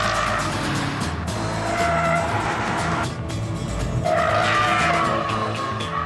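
A Subaru Impreza rally car's engine roars loudly as its tires skid and squeal across loose ground, with a strong steady rush of noise throughout.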